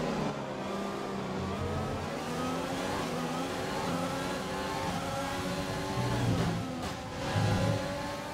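Renault-powered race car in the F1 2020 video game accelerates hard, its engine note climbing through the gears with rising whines and brief shift dips, another car briefly passing near the end.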